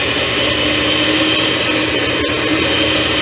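An electric mixer on slow speed works sugar into butter for a carrot cake. A loud, steady motor whir fills the whole stretch with only a momentary dip.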